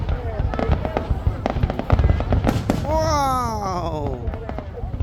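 New Year 2024 fireworks bursting in rapid crackling volleys and sharp pops, loud and fairly near, followed by whistling rising shells near the end, with people talking and exclaiming over them.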